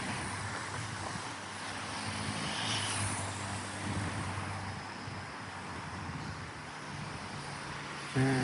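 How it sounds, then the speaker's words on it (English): Dense road traffic on a main road in Medellín forms a steady, loud, broadband roar with no distinct vehicles, and a brief thump lands at the very end. "So that noise you hear is traffic."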